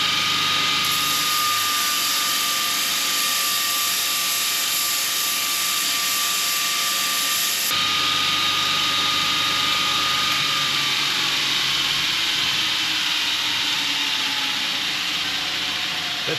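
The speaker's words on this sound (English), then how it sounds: "Now I've got to linish the welds back on the front end, on the front of the bracket." Welds on a Triumph Thunderbird tail-tidy bracket being linished: a loud, steady abrasive grinding hiss with a faint whine. It runs continuously, shifts slightly in tone about halfway through, and no one speaks.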